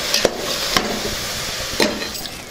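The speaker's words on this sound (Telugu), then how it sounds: "ఇది మొత్తాన్ని ఒకసారి కలుపుకుందాం." A spoon stirring turmeric, chili powder and salt into bottle gourd rasam in a pot, soft scraping with a few sharp taps against the metal rim over a steady sizzling hiss.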